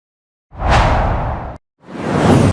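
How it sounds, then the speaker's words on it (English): Deep, dramatic whoosh sound effect used for a weapon swing, played twice: two loud, heavy rushing sweeps, each about a second long, separated by a brief silence. "So this whoosh gave me the swing sound"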